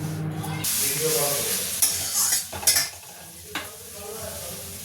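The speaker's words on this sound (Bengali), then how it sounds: "গ্যাসেই পোড়াতে হবে। একটু ধৈর্য ধরে ঘুরিয়ে নাড়িয়ে ছাড়িয়ে।" An eggplant roasts directly over a gas flame with a steady rushing burner roar and faint crackle, interrupted by brief clunks and scrapes as it is turned.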